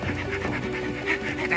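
A cartoon dog pants in quick, steady breaths over a faint background tone, with the breathy rhythm repeating evenly and close throughout.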